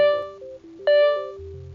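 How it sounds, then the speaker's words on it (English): Fire alarm at a DuPont cellulosic ethanol facility, sounding a loud electronic tonal signal that steps up and down in pitch, with a sharp renewed blast partway through and a lower buzzing tone near the end. "The fire alarm sounds like this."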